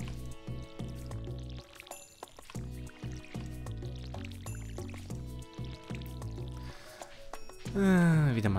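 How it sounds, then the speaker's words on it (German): In the Stardew Valley farming game, a watering can is refilled with water, heard as a short rising bubbly gurgle near the end over continuous background music. "Wieder mal das Wasser auffüllen."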